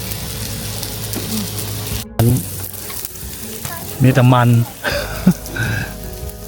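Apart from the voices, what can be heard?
pork sizzling on a Thai grill pan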